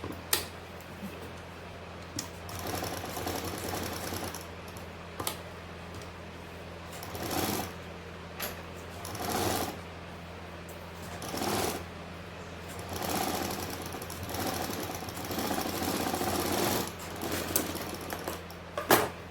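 A sewing machine stitches the neckline of a kurti in bursts of steady mechanical running, with short pauses between runs and a continuous low motor hum underneath.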